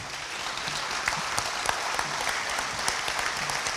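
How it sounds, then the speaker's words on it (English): Sustained applause from the audience for the candidates at a Minnesota GOP gubernatorial primary debate, dense and even clapping with a few sharper individual claps standing out. "give them another round of applause"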